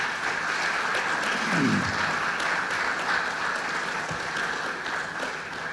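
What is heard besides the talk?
audience applause for Hall of Fame inductees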